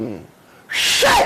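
A man sneezes once, a sudden loud burst that comes just after a brief snatch of speech and trails off quickly.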